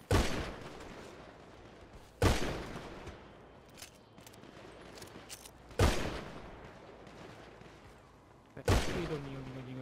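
Gunfire in the GTA video game rings out as four sharp, loud single shots spaced a couple of seconds apart, each with a short ringing tail over a quiet background.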